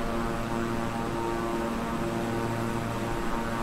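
Twin turboprop engines of a Beechcraft King Air 350i in Microsoft Flight Simulator on a nighttime flight from New Orleans to Mobile, a steady droning hum with constant tonal whine, even and continuous throughout.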